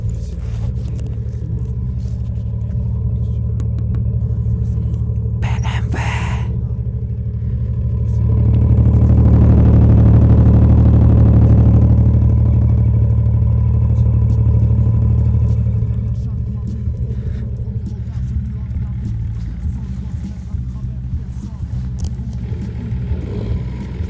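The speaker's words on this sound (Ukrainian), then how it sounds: "зараз заведемо тачку" Diesel engine of a 2000s BMW E39 sedan runs with a continuous low rumble that swells louder for several seconds mid-clip, then settles back to a steady idle.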